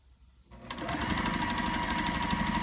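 A sewing machine stitches quilt seams on a Missouri Star Quilt Co Stargazer quilt, starting after a brief quiet moment and running steadily with a fast, even needle rhythm, close and loud.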